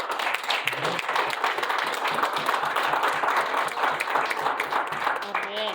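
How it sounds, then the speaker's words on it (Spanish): Worshippers in a Spanish-speaking church give applause to the Lord, sustained dense clapping with shouts and voices mixed in throughout, a speaker's voice emerging at the close. "Den un aplauso al Señor."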